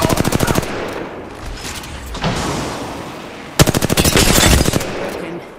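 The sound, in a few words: machine gun fire in a video game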